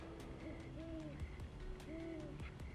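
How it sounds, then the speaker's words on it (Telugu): An owl hoots in a forest at night, two clear repeated call phrases with a pause between them, moderately near and soft against a quiet nighttime background. "కానీ గుడ్లగూబ మెలకువలో ఉంది."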